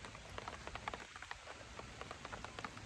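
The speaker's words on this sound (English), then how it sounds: "And this rain is going to water them in nicely." Rain begins falling over a freshly seeded garden bed, a soft, steady patter of drops with scattered individual taps, faint and close with no voices.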